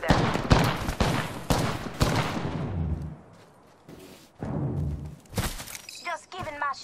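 Gunfire rattles in the video game Apex Legends, with bursts of shots, sharp impacts and shattering hits in quick succession, loud and close, broken by a quieter lull and some game voice lines.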